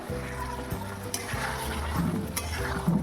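Chicken seasoned with turmeric and Kashmiri chili powder is stirred and sautéed in a pan, giving a soft sizzle with scraping stirs and light clinks of a utensil on the pot, close and fairly quiet.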